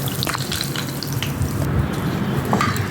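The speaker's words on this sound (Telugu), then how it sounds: "ఈ వేగిన పోపుని మనం పప్పులో వేసేసుకుందామండి" Hot fried tempering with curry leaves hits simmering tomato dal, a loud, close, continuous sizzle and hiss lasting throughout, no voices.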